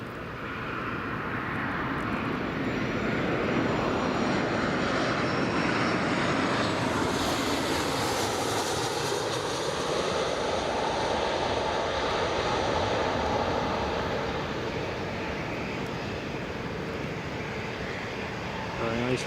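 A fixed-wing aircraft on approach to runway 25 at Newcastle International Airport, its engine roar steady and loud throughout, a broad continuous rumble with no pause.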